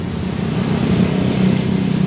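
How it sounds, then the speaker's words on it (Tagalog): A Honda Beat Fi V2 scooter engine idles steadily after an error code 12 fault is cleared, giving a close, continuous low hum with an even rhythm and no talk over it. "At tumaandar na rin yung makina natin"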